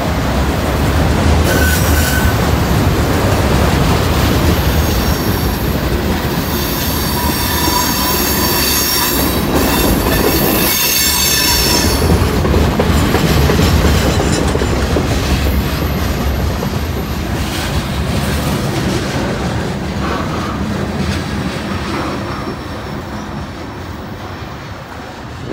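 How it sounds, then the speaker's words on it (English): A long freight train hauling loaded auto rack cars rolls past close by, a loud continuous rumble with squealing wheels and rhythmic clatter over the rails that holds steady throughout. "Wow, what a train. That one was massive."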